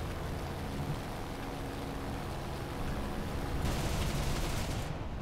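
Dense, rapid gunfire rattles continuously in a War Thunder match with German aircraft, a thick wash of shots and impacts with a louder burst near the end and no voices.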